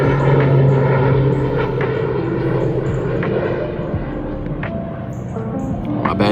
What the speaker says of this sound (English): This plane is loud.